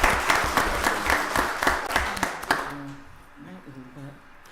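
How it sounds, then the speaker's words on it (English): Audience members at a county board of commissioners meeting clap in a brief round of applause with distinct, close claps that fade out, followed by a voice speaking. "Give his wonderful wife a wonderful round of applause"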